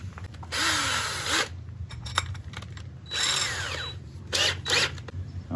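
Loud whining impact-drill bursts repeat in several spurts, biting through aluminum with a high screeching edge, separated by brief pauses with a low background hum.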